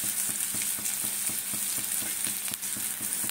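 Chopped onion fries in a pan with a dense, steady crackling sizzle, close up, with faint rhythmic taps of stirring beneath and no voices.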